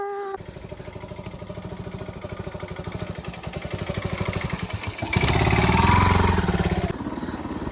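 A motorcycle labours up a steep village hill road in rural Nepal, its engine thumping steadily and close, then straining harder and louder near the end before easing off.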